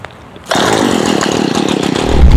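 An electric string trimmer cutting lawn edges starts after a short quiet moment, then runs as a loud, close, steady high whine with a buzzing edge that rises slightly toward the end.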